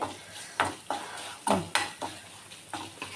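Asafoetida powder and chilli powder stirred in a pan with the gas switched off while making a Kerala raw mango pickle, giving a scrape of the spoon about every half second over a soft, dying sizzle.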